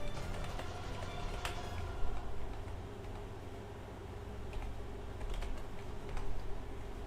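Steady typing on a computer keyboard during a tabletop game master planning session, a continuous patter of close key clicks with a few sharper taps standing out, no voices.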